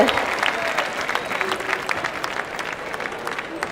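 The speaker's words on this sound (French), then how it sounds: "On les applaudit." A crowd applauds performers at a live event, a bright rush of clapping hands heard fairly close, gradually thinning over a few seconds, with some voices mixed in.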